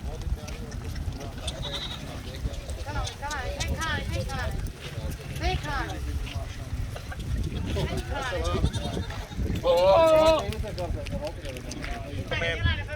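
A herd of goats and bucks bleats repeatedly at a farm, with several wavering calls near and far over steady background noise. Someone talks throughout.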